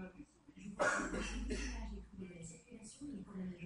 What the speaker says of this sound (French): C'est qui tousse derrière?